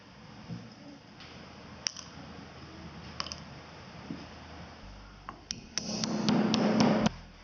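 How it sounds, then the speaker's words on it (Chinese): Whole spices for masala milk tea pounded into powder with a mortar and pestle: sparse sharp taps and knocks against faint background hiss, building into a denser, louder burst of grinding and clicking near the end. "尽可能将香料捣成粉末状"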